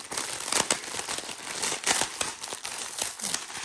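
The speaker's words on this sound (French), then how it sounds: "On enlève le scotch." Crackly, crinkling rips come in repeated bursts as packing tape is pulled away from a cardboard parcel, close up and fairly loud.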